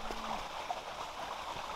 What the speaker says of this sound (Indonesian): Sumber mata air. Mata air, masya Allah, ini rezeki.